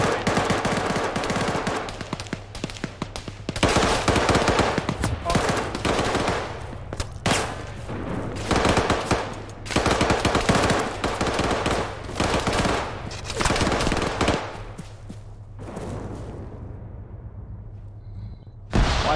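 Rapid bursts of machine gun fire in the military game Arma 3 rattle on and off for about fifteen seconds, with dense overlapping shots, before fading into a quieter stretch.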